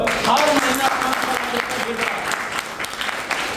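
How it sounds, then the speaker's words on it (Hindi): Applause from a crowd at a business motivational gathering, a dense steady wash of clapping with voices mixed in throughout. "जोरदार ताली बजाओ"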